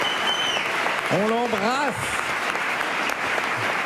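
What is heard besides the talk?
studio audience applause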